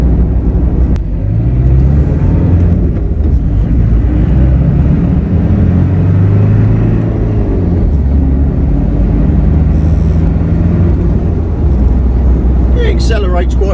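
2000 Jeep Cherokee XJ with the VM diesel engine driving and accelerating, a loud steady in-cabin rumble and engine drone throughout, with someone talking over it.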